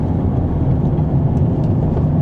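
A twin turbo Dodge Charger Scat Pack accelerates hard in second gear, its engine a loud, steady low rumble heard from inside the car with no talking.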